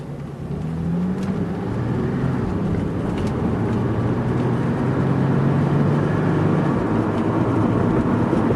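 A 1996 Acura TL with its 3.2 engine cruising at night gives a steady, smooth low hum and road rumble, constant and fairly loud throughout with no voices.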